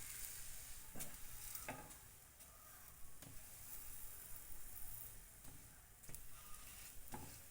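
An aloo paratha roasts on a hot pan, giving a steady close sizzle broken by soft scraping and pressing taps at a loose, uneven pace.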